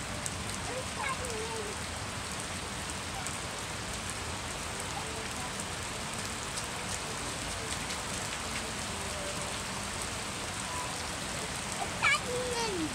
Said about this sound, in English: You're playing in the rain.